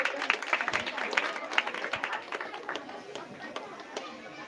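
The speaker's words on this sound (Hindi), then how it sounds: "आइए चंद्रकुमार, आइए भैया, एक बार जोरदार ताली चाहिए।" Audience at a student study centre farewell ceremony clapping in a loose burst that thins out, with chatter and voices underneath.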